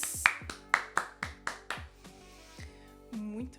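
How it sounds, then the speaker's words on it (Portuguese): A single person claps about eight times in a quick, slightly uneven rhythm, close and sharp, then the claps fade out as a faint musical tone and a low voiced murmur take over. "Então, palmas para Terry Lin."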